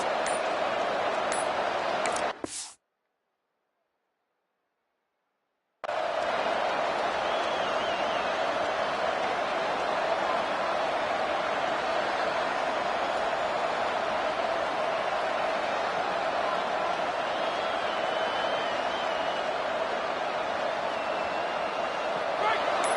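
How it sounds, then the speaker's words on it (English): Loud, steady roar of a stadium crowd at a USC vs Penn State college football game, a dense wall of cheering noise that cuts out briefly for a few seconds near the start, then holds constant throughout. "Listen to this crowd."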